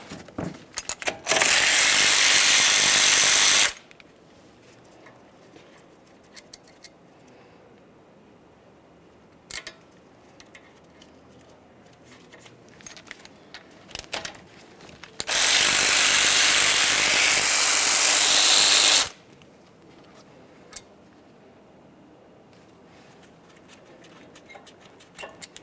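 A 14mm ratchet works on the caliper slider pin bolts of a 2009-2014 Nissan Maxima, giving two loud, sustained mechanical buzzing bursts of a few seconds each, separated by quiet stretches of small clicks and handling noises.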